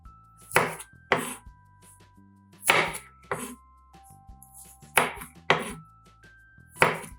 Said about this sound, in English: After peeling, cut any large cloves in half.